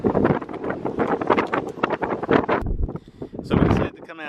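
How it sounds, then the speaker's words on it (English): Strong hurricane gusts sweep across a lake near a home in St. Cloud, Florida, buffeting the microphone with loud, roaring bursts, while people talk through most of it. "the winds, what do you say, they're still gusting steady at like 50 mile an hour at least?"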